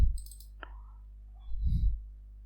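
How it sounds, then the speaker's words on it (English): A single sharp mouse click on a software button stands out against a quiet background of low hum, with no talking. "so click this triple button"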